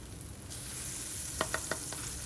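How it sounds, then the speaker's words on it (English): Pierogi fry in melted butter in a non-stick pan with a soft, steady sizzle, marked by a few quick light taps and spatters near the end. "drop in the pierogi one by one. It's gonna splatter a little bit in the beginning"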